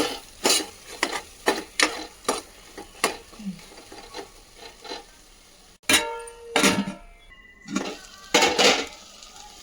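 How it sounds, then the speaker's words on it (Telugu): Masala paste being stirred into stuffed brinjal curry in a pan, with a run of close, rhythmic scraping and clinking strokes of a spoon against the metal, some quicker clatters near the end and a faint sizzle underneath. "మసాలా పేస్ట్ ఇందులో వేసుకుందాం. కలుపుకుందాం."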